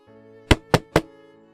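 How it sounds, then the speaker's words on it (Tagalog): Three soft, evenly spaced knocks on a bedroom door ring out alone over a faint low hum, each rap short and close. "Isang umaga, narinig ni Aling Delia ang mahinang katok mula sa silid ng kanyang apo"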